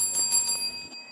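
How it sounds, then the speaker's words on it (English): A quiz show bell on a televised school quiz competition rings to close the first section, giving a few bright, quick strikes that ring out briefly and fade, with no talking. "And that bell ends the first section"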